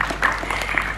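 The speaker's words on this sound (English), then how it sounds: "Can we give them a round of applause," Applause from the audience at a workshop, a steady broadband patter of clapping lasting about a second with no voices over it.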